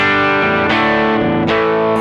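A humbucker-equipped electric guitar played clean through an amp with reverb set at half, ringing chords that change a few times over a couple of seconds, loud and close, with no voice.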